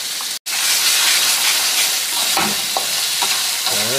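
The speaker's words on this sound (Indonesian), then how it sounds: "Masak pula cili ni sampai dia betul-betul masak." Dried chili paste sizzling loudly in a hot pan, a steady close hiss of frying with a few stirring scrapes near the end and a brief break at the start.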